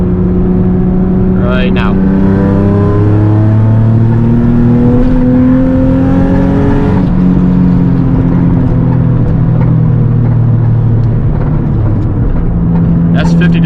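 A Nissan 350Z accelerating uphill from 50 to 70 mph in a fairly high gear, its engine note climbing steadily in a long, loud rising drone from inside the car, with someone talking over it.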